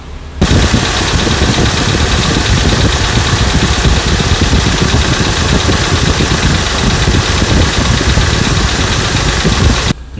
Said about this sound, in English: cooling fan control module is now working, and you can hear it cycling on and off.